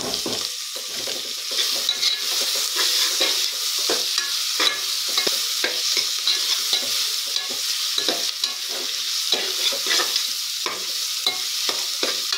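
Green or dried red chillies sizzling as they sauté in a hot pan, with steady frying crackle and repeated scraping stirs of a spoon throughout, close and fairly loud, no talking.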